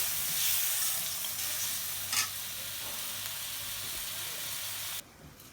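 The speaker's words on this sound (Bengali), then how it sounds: "তাহলে মশলাটা একটু কষাই লই" Green chilli, turmeric and coriander masala frying in hot oil: an even, fairly soft hiss and sizzle with a brief stir in the middle, heard close and without talk before the sound drops away suddenly near the end.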